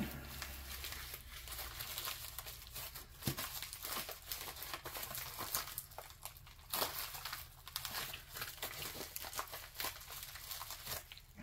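Paper envelope being torn open and handled during a mail opening, steady crinkling and tearing rustles close by across several seconds, with a few sharper rips and no talk.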